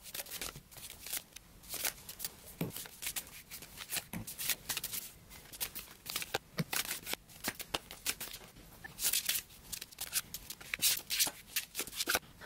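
Tarot cards are shuffled and laid out in a spread, giving a run of quick papery riffles, slaps and soft sliding flicks up close, with no talking.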